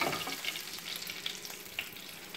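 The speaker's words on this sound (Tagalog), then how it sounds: "Gigisa lang natin po." Onions sautéing in a pan with pork bone, a steady close sizzle with occasional crackles and stirring scrapes, heard alone.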